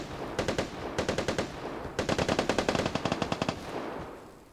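Automatic gunfire in the game Vigor, rattling in two rapid bursts of evenly spaced shots, fairly close and loud, with no talking over it.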